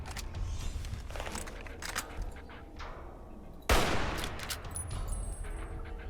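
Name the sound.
hunting rifle gunfire in video game Fallout New Vegas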